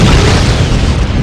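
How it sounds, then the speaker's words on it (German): Explosions roar in a video game as a brief, loud, dense blast of rumbling noise that fills the whole moment without pause. "Ja klar, da explodieren sie alle wieder"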